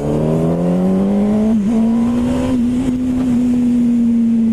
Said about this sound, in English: this is a clean, nice, well-kept 2006 Yamaha R1